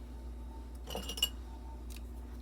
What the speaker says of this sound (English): Now we're going to cut our yarn.